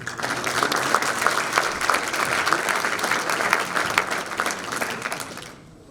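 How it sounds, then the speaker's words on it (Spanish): A seminar audience applauds to welcome a banking speaker, a full, dense round of clapping held steadily for about five seconds before cutting off. "Lo recibimos con un aplauso"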